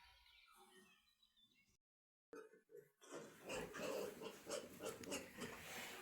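Large newborn piglets squeal in shrill, overlapping cries, loud and close, trying to get the sow to rise, after a brief stretch of quieter snuffling and a moment of silence.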